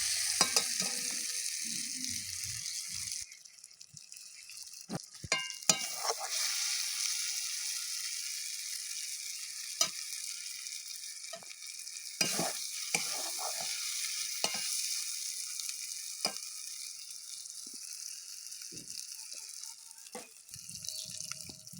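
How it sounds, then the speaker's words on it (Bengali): Large chopped tomato pieces stirred while frying in a pan for a curry, a continuous bright sizzle with repeated utensil scrapes and knocks throughout, close and alone. "এবার কেটে রাখা বড় বড় টমেটো দিয়ে আবারও নেড়ে চেড়ে"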